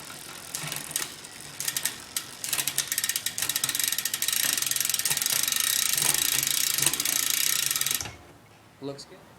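A bicycle chain ratchets and clicks steadily up the rear cassette as the derailleur shifts, a close, busy metallic whirring for about eight seconds before it stops abruptly, followed by a couple of faint clicks.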